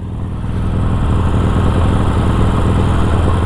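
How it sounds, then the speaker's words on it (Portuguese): A Harley-Davidson Iron 1200 motorcycle fitted with a Customer exhaust tip idles close by with a deep, steady, throbbing rumble that grows slightly after the first half-second. "é um dos sons mais legais de Harley"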